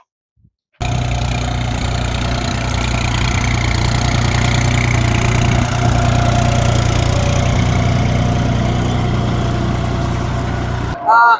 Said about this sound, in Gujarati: આ રીતે એટલી સ્પીડમાં ટ્રેક્ટર હાલે છે